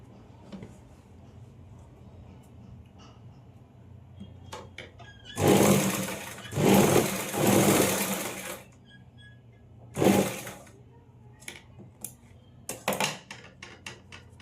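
A sewing machine stitching a folded triangular piece of blouse fabric, running in several short loud bursts of rapid whirring with quiet pauses between, close by.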